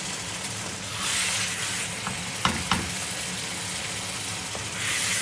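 Chicken biryani masala with onions and tomatoes fries on full heat in a pot, giving a loud, steady sizzle, close by, with a couple of sharp spoon taps and stirring scrapes partway through and no speech.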